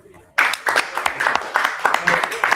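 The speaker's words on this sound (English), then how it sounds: "All right, clap it up." A crowd claps at a Purim feast gathering in a hall, with sudden close, loud clapping that starts after a brief quiet moment and continues in a steady, slightly uneven rhythm.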